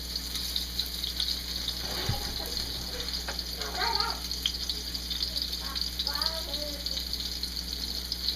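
Beef stew pieces browning in a hot pan make a continuous fry sizzle with occasional scraping or stirring, steady and close over a constant background hum, with a voice talking over it at times.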